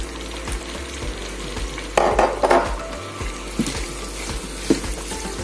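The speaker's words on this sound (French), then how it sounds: "je vais laisser mijoter peut-être 2 à 5 minutes" Vegetable stuffing with parsley and bay leaf cooking in a pan for a stuffed chicken, a soft steady sizzle and simmer with a few louder bursts of stirring and clatter, alongside a low background hum and no voices.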